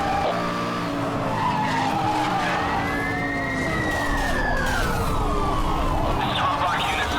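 Tires skid and screech through a police chase after a Lamborghini Gallardo in the racing game Need for Speed Hot Pursuit Remastered, with long, sweeping squeals over roaring engines and wailing sirens, loud and continuous.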